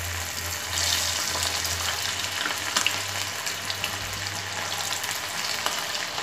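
Coated chicken pieces frying in oil for chicken 90, a steady close hiss and bubbling sizzle with faint stirring, no talking.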